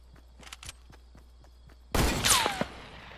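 Fortnite gunfire, with a run of quiet, sharp shots in the first half, then a sudden loud burst of firing and a whizzing streak that fades out.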